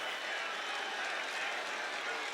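A college football stadium crowd roars in a steady, broad wash of cheering and applause after a flag is thrown, with no single voice standing out.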